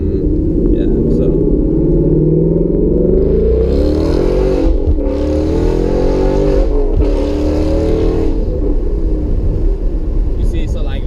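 A 2016 Ford Mustang GT with Steeda IRS components accelerates hard from a roll, its loud engine rumble rising through the gears with brief shift breaks, heard from inside the car with someone talking over it.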